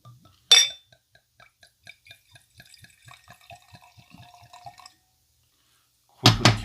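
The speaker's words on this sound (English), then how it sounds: "Let's go ahead and get a pour on." Apothic Cabernet Sauvignon red wine is poured into a glass, a sharp clink followed by a run of quick, soft trickling drips that fade out, then another clink at the end; quiet and close.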